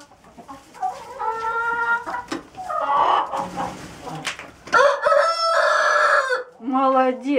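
Laying hens in winter cluck and squawk close by while being fed sprouted wheat, irregular bursts of clucking and one crow-like call among them.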